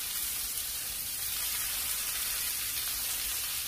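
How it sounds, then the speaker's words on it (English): Garlic sizzles in a hot pan with a steady, close, even hiss that continues unbroken with no talking. "Our garlic is going. Our pan's nice and hot."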